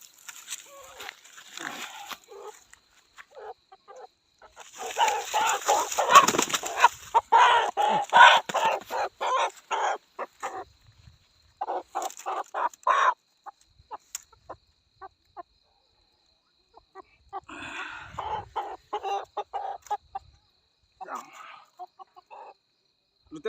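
Chickens, including a hen, cluck in a Nepali household during the Tihar festival. Their calls come in intermittent close bursts, separated by quiet gaps, with people talking nearby.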